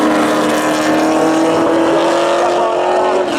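Spectator drag racing cars, one a Pontiac Trans Am, launch at a Memorial Day thrill show, their engines roaring loud and sustained as they accelerate away together.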